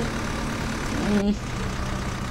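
A tractor engine in the Indian Bike Driving 3D mobile game produces a continuous low rumbling drone under a man's speech, steady and fairly loud across the short stretch.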